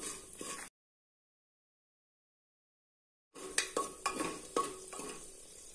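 Oil is stirred into a spice mixture, a brief scrape and sizzle, then a gap of silence, then a run of close clinking, scraping spoon strokes against the pan.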